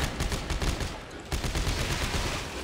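Sustained rapid gunfire from a shotgun and pistol in the horror shooter Dead Space 3, a dense loud burst of overlapping shots with a brief pause midway, then continuing without talk.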